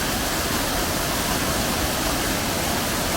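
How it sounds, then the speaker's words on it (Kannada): Savdav waterfall near Malvan roars as water pours down in a dense, unbroken rush, loud and close with no voices. "ಮೋಸ್ಟ್ಲಿ ನೀರು ದಬ ದಬ ಬೀಳ್ತಲ್ಲ"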